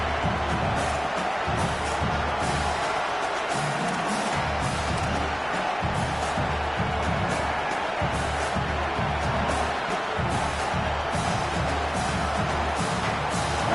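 Home crowd noise at a college football game between the Canes and Hoosiers, a steady, loud roar of cheering and shouting from a stadium full of fans.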